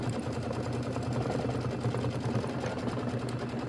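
An embroidery machine stitches a satin outline on a Kimberbell mini quilt block, giving a steady, close mechanical hum with a rapid needle patter that runs unbroken throughout.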